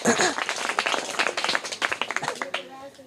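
Children in a third-grade class clap for a correct answer, a burst of scattered, uneven handclaps that thins out toward the end, with voices mixed in.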